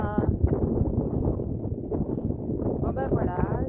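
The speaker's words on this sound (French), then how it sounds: "il y a un peu de vent" Cold seaside wind buffeting the microphone at Sète, a loud, gusty low rumble that runs throughout under someone talking.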